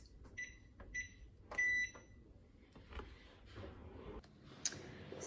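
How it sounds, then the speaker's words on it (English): A kitchen timer is set while basil tea steeps off the heat, giving a few sharp electronic beeps and button clicks early on, followed by quieter clicking and faint handling in a quiet kitchen. "I'm gonna set my timer for,"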